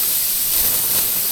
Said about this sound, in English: we're just gonna go with compressed air